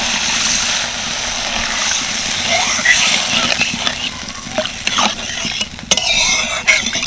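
Water poured onto sizzling fried masala for a cabbage curry, a loud broad hiss and bubbling roar with stirring scrapes and clatters, close and continuous.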